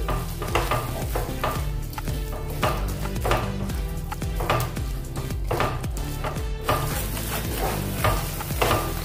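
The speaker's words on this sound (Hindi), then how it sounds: "इसको अच्छे से भुनना है, तेल छूटने तक, मसाले से तेल छूटने तक हम भुनेंगे" Masala roasting in oil in a kadhai for an aloo baingan sabzi, with a constant close sizzle and a spatula scraping and stirring in repeated strokes throughout.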